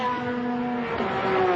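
Former Porsche Cup race cars at Queensland Raceway during a Hi-Tec Oils Super Series round howl past at high revs, a loud, continuous scream whose pitch shifts as they go by.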